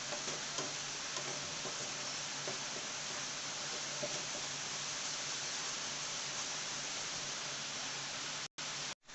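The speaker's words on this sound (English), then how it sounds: "Make sure that you keep stirring the mixture." A paneer butter masala mixture is stirred in a pan over steady, loud frying sizzle, with faint scraping ticks from the stirring running through the hiss, which cuts out briefly near the end.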